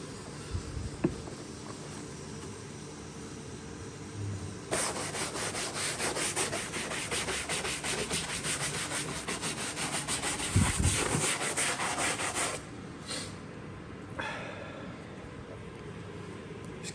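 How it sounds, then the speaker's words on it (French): A hand brush scrubs the dirty bodywork of a Renault Kangoo during cleaning, giving a steady, dense rasping rub that runs for several seconds, stops briefly and resumes, close to the microphone with no talking. "c'est ça. Une brosse à main."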